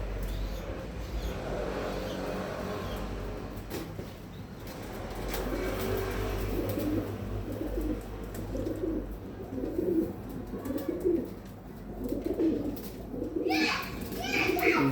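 Pet pigeons coo in soft, repeated low throaty phrases close by, with a voice speaking over them and faint background activity.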